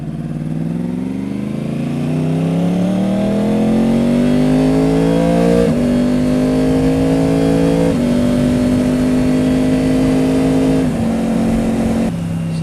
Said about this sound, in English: So that was just some relaxy clutchless shifting